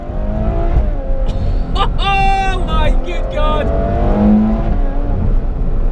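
Ferrari F12 TDF with a 770bhp V12 engine revving loud and close through rapid upshifts, each rising harmonic sweep cut short by the next gear, with a voice exclaiming over it.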